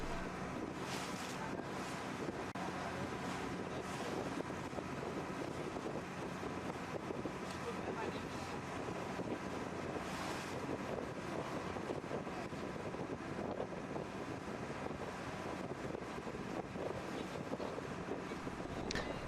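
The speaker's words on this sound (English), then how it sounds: "We're sailing northeast away from the island of Phuket out into the bay." A Chinese junk boat sails across the bay off Phuket, with constant wind buffeting and the wash of water around the hull filling the air, steady and unbroken throughout.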